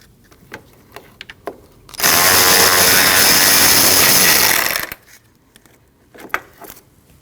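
A power tool whirs loudly for about three seconds as it backs out the T27 Torx bolt holding the transmission cooler lines to the radiator of a 2013-2019 Ford Escape 1.5L, with small metallic clicks and handling sounds before and after.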